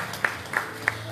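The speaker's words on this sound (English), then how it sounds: "Clap for Jesus." A church congregation at a Holy Ghost encounter in Melbourne claps in three brief, evenly spaced sharp claps, close and fairly loud over a quiet room murmur.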